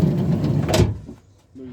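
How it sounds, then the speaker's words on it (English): A vehicle side door, on a scrap metal run with copper and light iron, slams shut in one sharp near thud partway through, then the sound quickly falls to quiet. "We'll shut that side door"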